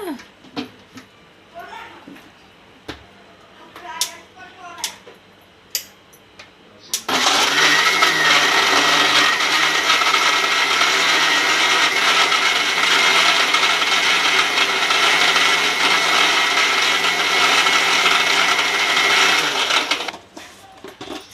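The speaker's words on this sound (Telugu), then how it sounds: "మిక్సీ చేసేద్దామండి మజ్జిగని" Mixer grinder blending spiced buttermilk, starting after several seconds of handling clatter and running as a loud, steady whir for about thirteen seconds before cutting off.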